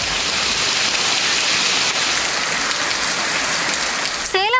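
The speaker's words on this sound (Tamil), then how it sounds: "தேனி மாவட்டம் பெரியகுளம் சுற்றுவட்டார பகுதிகளில் 1 மணி நேரத்திற்கும் மேலாக மிதமான மழை பெய்தது" Moderate rain falls steadily around Periyakulam in Theni district, a dense, even hiss filling the whole stretch, with a brief rising chirp-like sound near the end.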